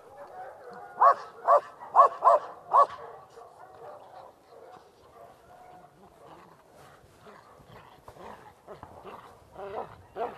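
A police dog barking during training, five sharp loud barks in quick succession near the start, then softer yips and scattered barks later, with people talking in the background.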